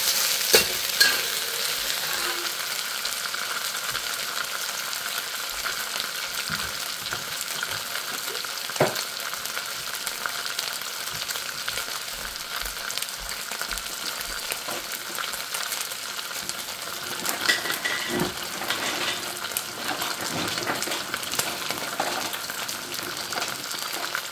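Chicken frying in olive oil in a pan for Pad Thai, a steady close sizzle with intermittent scraping and clacking as it is constantly stirred, no talking over it.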